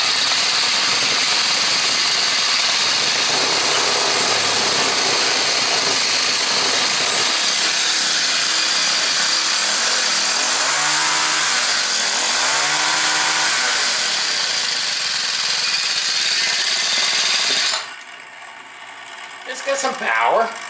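A small four-stroke engine, apparently a grinder motor fitted to a quarter-scale build, runs loud and close with a steady raspy drone, revving up and down midway before cutting off near the end.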